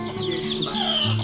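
Newly hatched chicks of a hen named Lucky peep in thin, high, repeated calls over a steady low hum, close by and fairly loud, with no talking.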